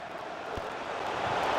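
A steady, dense stadium crowd roar from the FIFA 23 football game, in a Chelsea match at the Emirates, swelling slightly toward the end with no other sounds over it.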